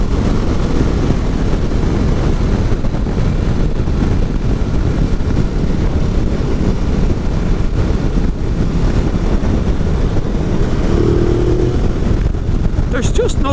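Ducati 950 Multistrada V-twin motorcycle running on the road, a steady dense engine roar mixed with heavy wind buffeting against the microphone, continuous and loud throughout.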